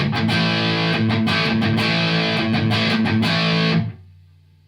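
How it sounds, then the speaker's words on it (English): Electric guitar through a Boss DS-1 distortion pedal, with loud, gritty strummed chords for about four seconds before the strings are muted and the note decays into a faint hum. "Boss Distortion DS1."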